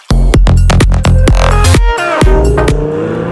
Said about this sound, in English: Little rain cold startup action.